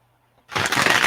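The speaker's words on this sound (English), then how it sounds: "Let's get 3 more shuffles." Tarot cards being shuffled by hand: a near quiet start, then a dense, loud burst of riffling card noise for the last half second, with no voices.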